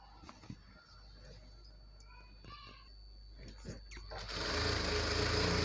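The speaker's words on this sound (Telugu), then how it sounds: "మళ్ళీ దీన్ని కూడా పైనుండి టాప్ స్టిచ్ వేసుకుంటున్నాను" A sewing machine top-stitches a panjabi dress pant. After some quiet handling noises and a brief voice, the motor starts up and runs as a loud, steady, close whirring drone through the end.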